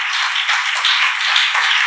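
A church congregation claps hands together in a steady, rhythmic beat, close and continuous, with no voices over it.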